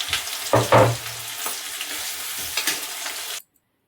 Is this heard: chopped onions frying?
yes